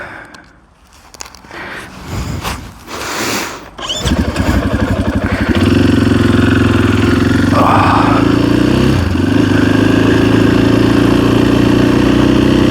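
A motorcycle engine idles steadily and loudly close by on a commute to work, its low throbbing drone running continuously after some initial handling noise and shifting, with no talk.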